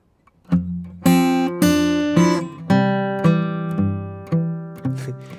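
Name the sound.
guitar boom chuck fingerpicking pattern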